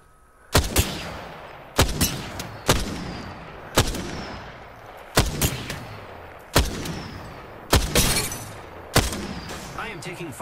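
Gunfire in Apex Legends during a sniper shootout: a steady run of about nine loud, booming shots roughly a second apart, each trailing a reverberant tail, with faint voices in the background.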